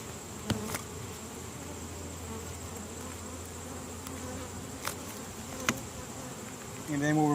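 Honey bees buzz steadily at an opened hive during a frame inspection in late August, a dense continuous drone with a few sharp clicks and knocks from frames being handled.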